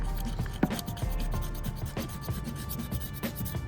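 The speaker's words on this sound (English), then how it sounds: "I think we're about ready for just a little bit of sandpaper and some brake cleaner." Sandpaper rubbed by hand over an air pump part on a 1995 Mack truck, a close, continuous scratchy rasping in rapid back-and-forth strokes with occasional sharper scrapes, no talking.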